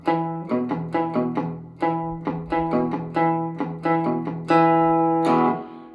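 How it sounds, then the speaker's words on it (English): Cigar box guitar with its strings palm-muted right at the bridge, plucked in a steady run of deadened, short twangy notes moving across the strings, close and clear, ending on a couple of longer ringing strums. "I am palm muting the strings right on the bridge"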